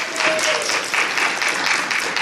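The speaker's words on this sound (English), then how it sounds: "Give her a round of applause." Audience applause at an open mic comedy night, a steady dense patter of clapping from a small crowd that holds for about two seconds, with a brief faint tone early on.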